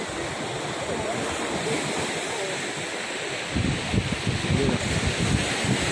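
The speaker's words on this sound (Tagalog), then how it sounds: "Lakas ng alon." Strong sea waves on the beach at Morong, Bataan, a constant roaring surf that swells louder toward the end, with some voices in the background.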